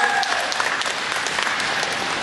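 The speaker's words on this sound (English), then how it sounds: "Give Sparky a big round of applause." At a county fair show, a crowd gives steady, full applause for Sparky, many hands clapping continuously at an even volume with faint voices mixed in.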